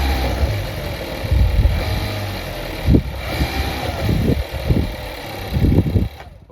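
A VW Golf Mk7 1.4 TSI engine runs at a low, steady idle just after an oil change, with a continuous hum broken by several short dull thumps and bumps nearby.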